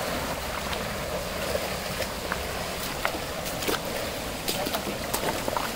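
Water rushes down a waterfall near Anjanvel, a dense, steady roar with scattered splashy crackles throughout and faint voices in the background.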